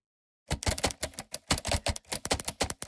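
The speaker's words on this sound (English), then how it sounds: "Down here in these lower octaves, we have these more typical typewriter sounds." Typical typewriter key strikes from the lower octaves of the Caelum Audio King Key app, a rapid, irregular run of loud, crisp clacks starting after a brief silence and continuing steadily.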